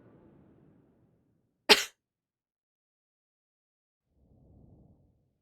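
A single sharp cough from a gamer, sudden and loud and lasting well under a second, set between stretches of near silence with faint low murmurs at the edges.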